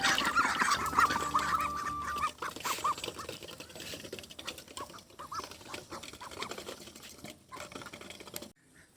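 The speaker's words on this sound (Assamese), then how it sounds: "আমাৰ হাঁহবিলাকো কান্দি আছে আপোনালোকে চাওক হয়তো ভোক লাগিছে" Domestic ducks and a chicken call out while hungry, giving repeated loud, harsh quacks and clucks close by, with quieter calls continuing after the first burst.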